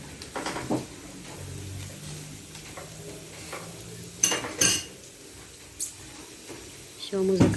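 Buns fry in a restaurant kitchen, a steady low sizzle under scattered clinks of cutlery and dishes and a few sharp bangs, with faint background activity.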